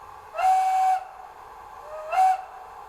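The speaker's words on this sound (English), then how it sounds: "this will be whistle number 4" A DCC sound decoder in a Bachmann G-scale 2-4-2T model locomotive plays a steam whistle: one longer blast, a pause, then a shorter toot, both clear and close over a faint background hiss.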